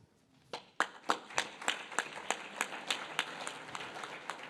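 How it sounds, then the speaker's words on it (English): An audience at a summer graduation ceremony applauds a graduate. Sparse claps build into a steady patter of hand clapping from a modest crowd, heard at moderate distance with no speech over it. "I would ask the graduate to join me in a round of applause."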